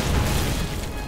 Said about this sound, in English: Hit the foxhole with the cannon.